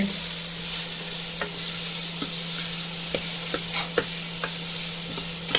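Wild mushroom curry stirred in a pan over a steady low sizzle and hum, with scattered spoon scrapes and knocks against the metal, fairly close and alone.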